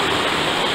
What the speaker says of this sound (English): It's a little river right there.